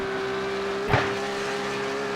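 Porsche 911 GT3 Cup race car at full throttle on the Nürburgring Nordschleife track, a sustained loud engine drone with a brief sharp surge near the middle.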